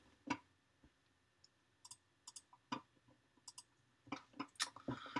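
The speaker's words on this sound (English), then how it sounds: "Oh, keyboard noises." Keyboard keys being mashed and face-rolled, giving scattered bursts of sharp clicks and clacks at an irregular rhythm, some single taps and some dense clusters, fairly close and quiet with no talking.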